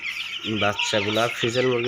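Frizzle chickens give three short, close, clear clucks in an even rhythm.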